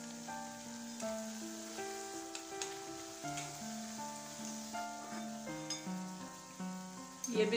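Pakoras bubble and sizzle in hot oil, a steady soft crackle with occasional pops, heard under sustained tonal background music, growing briefly busier near the end.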